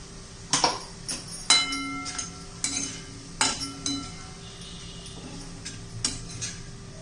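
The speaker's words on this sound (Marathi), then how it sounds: "आता हे वाटण केलेलं आपण ते घालून घेऊया" A spoon scrapes and taps in a pot as a ground paste of roasted coconut, onion, garlic and peanuts is stirred into a sprouted moth bean curry, giving irregular clinks over a faint sizzle.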